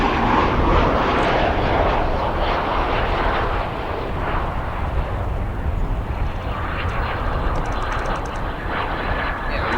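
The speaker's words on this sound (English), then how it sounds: "We get a beautiful shot of that Aeromexico landing." An Aeromexico airliner lands at O'Hare International Airport, a loud sustained jet roar that rumbles and slowly fades and shifts over several seconds, with no talk.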